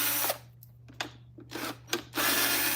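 A power screwdriver backs two screws out of the top of a vacuum nozzle window, giving several short whirring bursts separated by pauses over a steady low hum, close and alone.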